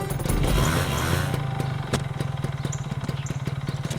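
An old scooter engine kicks into life with a rough, clattering burst. It then settles into a close, rhythmic putt-putt idle, with the steady pulsing firing clearly audible.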